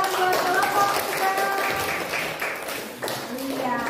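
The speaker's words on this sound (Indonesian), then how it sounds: "Beri tepuk tangan buat kelompok kita." A classroom group receives applause, a few seconds of scattered claps and taps mixed with talking voices.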